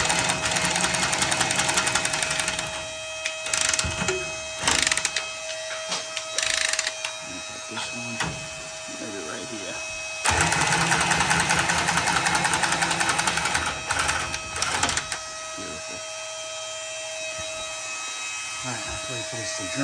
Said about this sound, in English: Use the Walker's tubing cutter. I'm gonna cut this